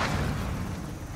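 A bomb detonates on its target in Modern Warfare Hardcore Search and Destroy, a dense, sustained low rumble that rolls on steadily for about a second and fades only slightly.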